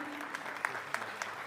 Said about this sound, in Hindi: जोरदार तालियां बजा दीजिएगा